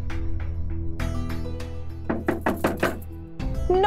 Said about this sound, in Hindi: नॉक जरूर कर लेना